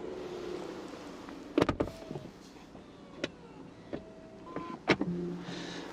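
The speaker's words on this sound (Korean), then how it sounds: "여기서 특이한 점은 제가 브레이크를 밟아도 도어가 닫힌다는 겁니다." A Genesis G90's automatic power door closes with a soft electric motor whir, then thuds and latches shut, with small clicks and mechanical clunks in a quiet car interior.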